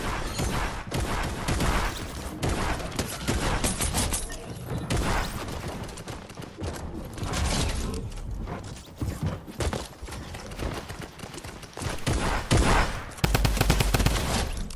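Rapid bursts of automatic gunfire from a weapon in the video game Fortnite, repeating in dense volleys throughout with brief gaps, loud and close.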